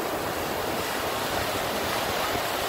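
Ocean surf at Myrtle Beach, South Carolina, a continuous loud wash of breaking waves mixed with gusty wind on the microphone.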